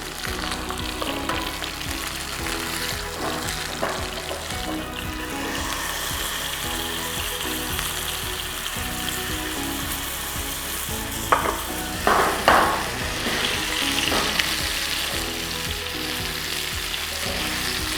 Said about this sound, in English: Now I'm going to flip the fish.